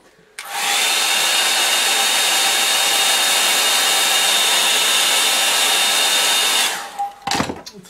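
A hair dryer runs steadily at close range for about six seconds to dry acrylic paint, with a loud continuous whine, then switches off and a few handling clatters follow.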